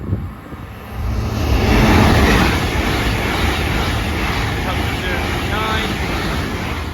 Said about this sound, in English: coming through now is yet another Great Western Railway service